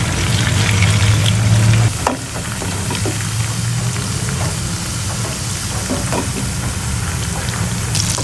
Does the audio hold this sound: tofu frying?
yes